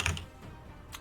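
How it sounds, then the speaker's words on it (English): Hard, fast keystrokes on a computer keyboard clatter in quick bursts, close and loud, with a short lull between the clusters. "Somebody is killing their keyboard right now."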